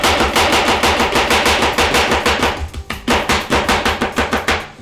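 A knife chops food on a cutting board in a fast, even rhythm of loud, close strikes, with a short pause before the chopping resumes.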